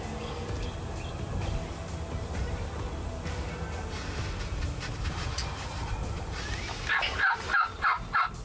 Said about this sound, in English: this woods is just exploding with gobbles